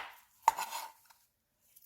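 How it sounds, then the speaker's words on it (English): A single sharp knife strike on a cutting board while dicing jalapenos, one clear chop followed by a faint tap, otherwise quiet. "Now get one regular sized jalapeno or two smaller sized jalapenos and start dicing."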